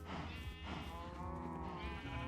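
Cows lowing in the blocky survival game Minecraft, set in a jungle world on hardcore mode: a steady overlapping chorus of drawn-out moos, close and loud, with no talking over them.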